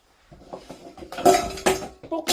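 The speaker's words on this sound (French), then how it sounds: "pour pouvoir cuisiner, je me suis acheté une petite casserole." A small, simple induction saucepan is handled and set down, giving a few sharp metallic clanks and clinks in quick succession, close and fairly loud, mixed with other rustling handling noises.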